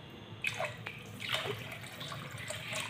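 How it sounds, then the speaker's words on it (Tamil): Water is poured into a pressure cooker holding soaked chana dal and sago, a splashing, gurgling stream with a few sharp drips, fairly close and unaccompanied by talk. "நாங்களும் தண்ணி ஆட் பண்ணிட்டோம்"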